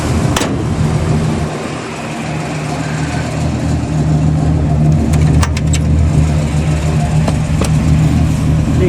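A 1970 Chevrolet Impala with a 406 small-block Chevy V8 drives along a road, its engine a steady, loud low rumble throughout with a few brief revs and clunks from inside the cabin.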